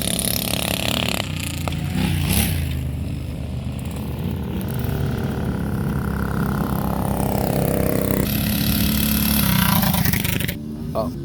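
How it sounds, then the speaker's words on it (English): A small KTM 38 hp V-twin mini bike engine revs hard nearby, its loud, rough, throaty roar rising and falling continuously over several seconds. "The motor is the nastiest sounding V-twin mini bike engine I've ever heard."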